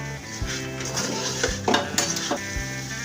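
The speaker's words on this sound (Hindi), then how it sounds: "इसको चलाते जाएंगे" Cabbage frying in a pan while it is stirred: scraping and clinking utensil strokes against the pan over a constant close sizzle.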